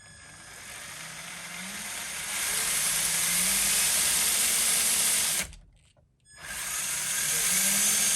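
Traxxas TRX4 RC crawler electric motor freshly regeared, whirring steadily and loudly, briefly cutting out partway through before spinning back up to a sustained whine.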